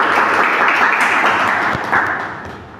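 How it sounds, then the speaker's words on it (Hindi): Audience applause at an Indian Air Force selection felicitation, a dense, even patter of many hands clapping loudly and close for a few seconds, then easing slightly toward the end. "ताली बजाइए।"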